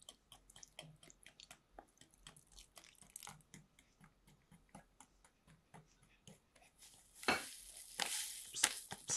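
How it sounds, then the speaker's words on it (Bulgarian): Fresh milk being stirred into a yeast mixture for kozunak makes a run of quick, light clinks and taps from a utensil against a bowl, close and fairly quiet, with a louder swishing burst near the end. "Добавям прясното мляко и продължавам да разбърквам."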